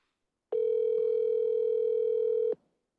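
A single steady ringback tone sounds on an outgoing telephone call, clear and close, holding for about two seconds before cutting to silence.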